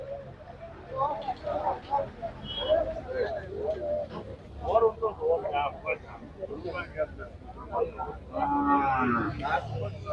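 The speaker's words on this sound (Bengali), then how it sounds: "অনেক গরু আছে" Many cattle, including small bulls, moo at a busy village cattle market in Sylhet, with repeated low calls near and far. People talk and bargain throughout.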